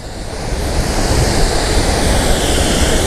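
Chitrakote Waterfall in Chhattisgarh, its water crashing over sharp, water-cut stones. A loud, steady broadband roar with no gaps that fills the whole clip, with no voices.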